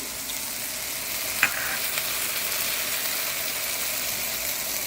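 Mushroom masala with tomatoes sautéing in a pan, a constant close sizzle with one sharp metallic clink of a utensil partway through and faint stirring scrapes.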